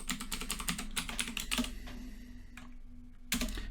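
A new password being typed on a computer keyboard for a Raspberry Pi OctoPrint setup: rapid, close key clicks in a quick burst, a pause, then a final keystroke.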